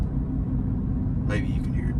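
Mickey Thompson Baja Boss A/T tires with 60,000 miles drone inside a truck cab at 60 mph, a constant low rumble with a brief spoken phrase over it near the end.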